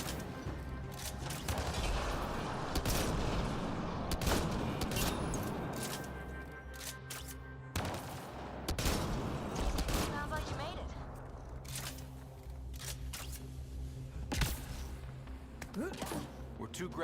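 Rapid, repeated gunfire in the sci-fi shooter Mass Effect: Andromeda: dense bursts of weapon shots and impacts crackling throughout, loud and continuous, with voices speaking over the combat.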